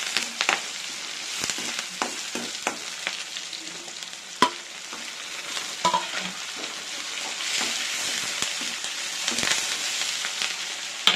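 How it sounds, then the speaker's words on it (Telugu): Tempering for egg rasam sizzles and crackles steadily in a hot pan, with scattered sharp pops and utensil taps, close and continuous without talking. "రసం వచ్చింది కాలింపు పెడతాము"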